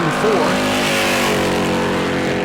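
Race car engine during Super Stock qualifying at New Smyrna, a brand new car in a Petty Blue paint scheme, roaring loud and steady with a sustained harmonic drone throughout, faint speech mixed underneath.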